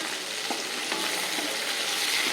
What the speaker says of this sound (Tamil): வெங்காயம் கோல்டன் கலர் வர அளவுக்கு இந்த வதக்கணும்.